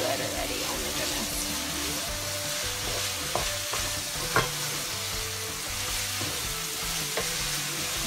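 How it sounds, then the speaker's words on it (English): Meat sauce with adobo and fresh tomatoes sizzling in a pan as it is stirred, a steady frying hiss with scattered scrapes and clicks of the utensil against the pan, close and unbroken. "Mix this all together."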